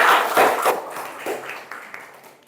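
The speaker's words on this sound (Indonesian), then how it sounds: "tepuk tangan dulu untuk kelompok 2" Students in a classroom clapping for group 2, a brief scattered round of hand claps that quickly trails off.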